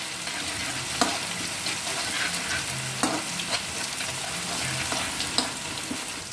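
Onions sautéing in a generous amount of oil in a pan for gongura chicken, a steady close sizzle with a few sharp scraping stirs of a spoon against the pan.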